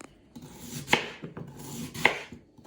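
A knife chopping meat for lagman on a cutting board, giving a few sharp, close knocks spaced about a second apart with soft slicing rubs between them and no talking.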